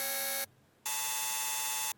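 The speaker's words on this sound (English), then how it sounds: "It's like this weird digital ringing" Detuned digital ringing from layered Serum synth wavetables with no frequency modulation, a harsh buzzing tone of many steady pitches, loud, played in two bursts around a short silence.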